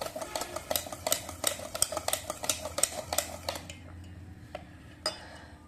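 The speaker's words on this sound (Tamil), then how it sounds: "6 முட்டையும் உடச்சி ஊற்றியாச்சு. நல்லா கிண்டிக்கலாம். நல்லா அந்த முட்டை வந்து மிக்ஸ் ஆகணும்." A utensil beats six broken eggs in a bowl for egg sweets, sharp rhythmic clinks and scrapes repeating quickly and close, then slowing to a few isolated taps after a short pause.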